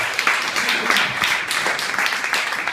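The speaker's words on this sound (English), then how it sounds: "Give her a round of applause." A Christmas party crowd gives a round of applause, a few seconds of fairly close, steady clapping from a modest group with brief murmurs underneath.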